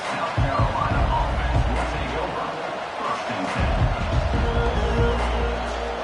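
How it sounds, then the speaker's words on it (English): Dense stadium crowd roar in a college football video game, a steady wall of cheering and noise running the whole stretch with a commentator-style voice talking over it. "They challenge this crowd to bring the energy, and I'd say they're doing that."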